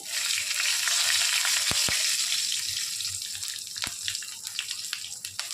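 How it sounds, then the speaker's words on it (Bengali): A halved green chilli spits and sizzles in hot oil with whole cumin seeds and a bay leaf, a bright, steady frying hiss with a few sharp pops and crackles scattered through it. "এবার আমি দেব একটা কাঁচা লঙ্কাকে অর্ধেক করে দিচ্ছি"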